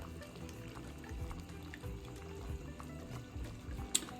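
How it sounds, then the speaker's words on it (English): A thin, quiet stream of milk pours steadily into flour for a few seconds, soft gurgling and filling sounds close by with a small clink near the end. "we're gonna pour this milk into the flour."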